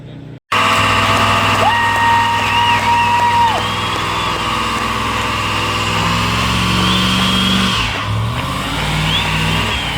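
Car engine revving on a dyno in a shop, a loud, sustained roar that rises and holds with shifting pitch, close and continuous for the whole stretch.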